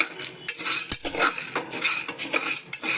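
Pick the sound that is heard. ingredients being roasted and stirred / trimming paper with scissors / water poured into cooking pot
ingredients being roasted and stirred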